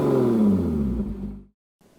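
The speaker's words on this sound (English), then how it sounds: "the 2GR certainly puts out a sound that matches" Lotus Evora GT with Toyota 2GR V6 engine, a brief loud exhaust roar that winds down over about a second and a half, then cuts to near silence.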